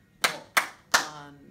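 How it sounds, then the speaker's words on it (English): Three crisp hand claps spaced roughly a third of a second apart, close and clear in a quiet room, each with a short decaying tail, beating out a rhythm for a dictation exercise. "I'm still going to clap from the beginning"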